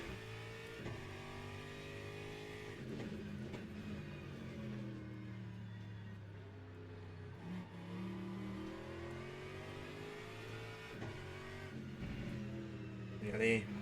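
Aston Martin race car in Le Mans Ultimate at Spa, engine droning and shifting through gears at steady moderate level, with pitch rising and dropping, alone without talk.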